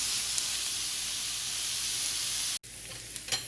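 Ground meat, onions and garlic frying in a pan for nachos, cooked down until almost crispy, a loud steady close sizzle that cuts off abruptly, followed by a few soft clicks and scrapes.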